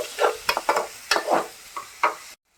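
Tomatoes and onion for a gravy sizzle in a pan while a spoon stirs them in quick scraping strokes, a soft frying hiss under irregular stirring bursts that stops abruptly at the end.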